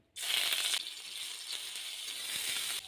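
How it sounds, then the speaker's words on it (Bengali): Grated ginger hits hot oil with a sudden loud sizzle that settles into steady crackling frying, close and continuous with no voices. "আদাটা 2 মিনিট ভেজে নিয়েছি।"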